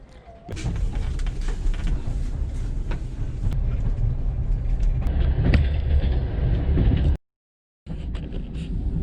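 A massive Soviet-era passenger train travelling from China to Mongolia gives a steady, close rumble of wheels and carriage noise with occasional thumps, broken by a brief dropout near the end before resuming.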